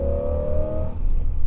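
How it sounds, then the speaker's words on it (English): Exhaust of a 1987 Chevrolet Camaro IROC-Z with ceramic-coated Summit headers and a Hooker Super Comp 3 system, a loud, deep, close rumble with a brief rising tone, then settling to a throaty burble. "We have a really, really nice set of ceramic coated headers from Summit, along with a Hooker Super Comp 3 exhaust system."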